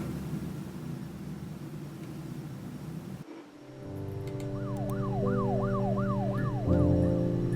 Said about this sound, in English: I keep hearing sirens from the computer, from the game.